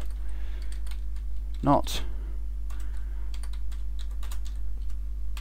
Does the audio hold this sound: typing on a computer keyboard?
yes